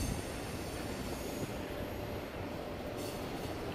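A train rolls past near a veterans memorial wall in Vancouver, Washington, a loud continuous rumble of rail cars with faint wheel squeal, steady throughout with no pauses.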